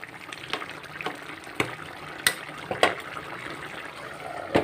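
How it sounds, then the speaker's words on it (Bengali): A jackfruit seed and potato curry with garam masala bubbles in a pan, with a steady low simmering hiss broken by sharp pops and burbles at irregular intervals, close up. "আর 1 মিনিট 2 মিনিট ফুটতে দেবো।"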